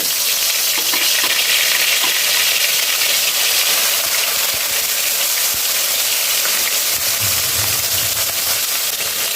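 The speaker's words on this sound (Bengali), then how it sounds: "এখন আমি এর মধ্যে একে একে সমস্ত মাছগুলোকে ভেজে নেব" Tilapia pieces fry in hot oil with a steady, loud, crackling sizzle that goes on without a break and has no talking over it.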